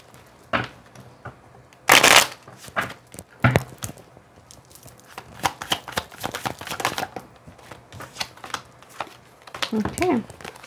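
Angel oracle cards are shuffled in quick papery riffles and rustling bursts, loudest around the second and third seconds, with softer handling and faint murmuring in between.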